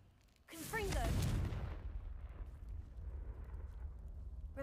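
A Confringo spell blast in a video game erupts as one loud burst after a quiet start, then rolls into a long rumbling, crackling tail that stays fairly strong to the end.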